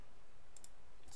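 A computer mouse clicks faintly, a few quick, light taps over a quiet background.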